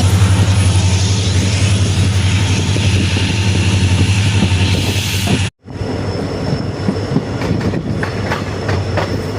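A passenger train running on the line out of Ramanathapuram in Tamil Nadu, heard from on board as a loud, steady rumble with a low hum and rail noise, broken by a brief gap midway before the rolling continues.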